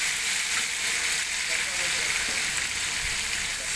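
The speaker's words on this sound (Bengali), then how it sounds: "3 কেজি পেঁয়াজ দেওয়া হইতেছে।" Three kilograms of onions go into a large pot of hot oil, raising a loud, dense, continuous sizzle that holds steady throughout, close by.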